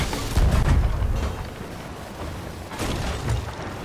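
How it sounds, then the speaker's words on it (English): Ship cannons boom in the pirate video game Sea of Thieves, with heavy rumbling blasts rolling together into a dense, loud barrage. "get on the cannons!"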